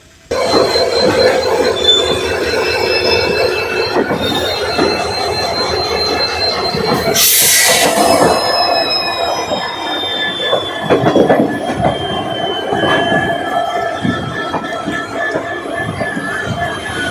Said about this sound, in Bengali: ট্রেনের সাউন্ডটা শুনলেন একটি ট্রেক থেকে আরেকটি ট্রেকে যখন যাচ্ছে বা তার মেন লাইনে চলে যাচ্ছে